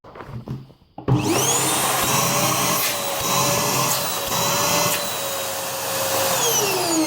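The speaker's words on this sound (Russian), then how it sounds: "включаем пылесос" A vacuum cleaner switches on after a few soft clicks and runs with its air intake covered, giving a loud, steady, strained roar with a high whine that wavers slightly in pitch throughout.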